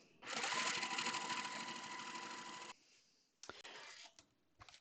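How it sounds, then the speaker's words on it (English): A Juki sewing machine runs a straight stitch in one fast, steady burst of about two seconds, heard up close, followed by a few light clicks and handling sounds. "For all of my straight stitching, I like to use my Juki."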